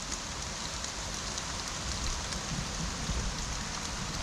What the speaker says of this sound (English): it's still raining and doesn't look like it's gonna stop anytime soon